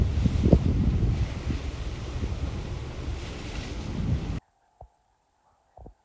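Cold wind buffets the open deck of a Japanese overnight ferry in a loud, continuous roar with low rumble, then cuts abruptly to near silence with a couple of faint knocks.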